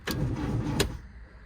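A Lotus Elan engine with a faulty clutch cranks and turns over roughly with a harsh, grinding edge, two sharp bursts breaking through the rumble before it fades.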